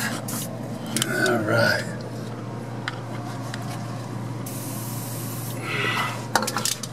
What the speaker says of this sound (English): hit those with a little bit of WD first